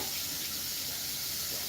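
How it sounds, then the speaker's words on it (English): Hot tap water runs in a steady, loud, close hiss as a glass is rinsed at a sink, with no talking. "dump it out, hot water rinse"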